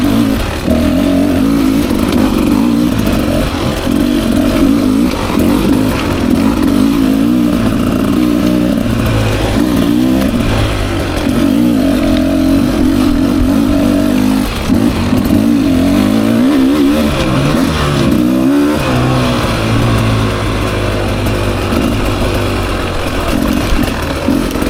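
A 2024 Beta 300 RR Race Edition two-stroke motorcycle engine drones loudly and continuously on a single-track trail ride, rising and falling as the throttle opens and eases, close and with no talking.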